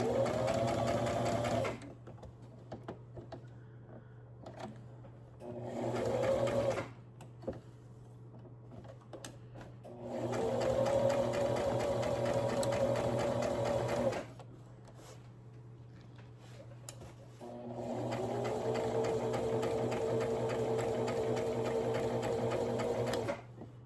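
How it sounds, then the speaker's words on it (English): A sewing machine stitches around a fabric animal pillow made from a panel, running in several steady bursts with short pauses between them as the needle stops and the fabric turns. "I'm just going to sew all the way around"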